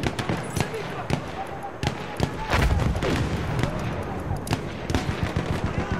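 Heavy gun fire rings out in a Battlefield 1 multiplayer match, with sharp repeated shots and booms of varying loudness, near and distant, mixed with battle noise.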